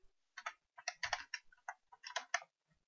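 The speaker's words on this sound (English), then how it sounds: "here I'm going to type the URL" Quiet, close typing on a computer keyboard as a URL is entered: irregular bursts of light key clicks in quick clusters, with short pauses between groups and no voices.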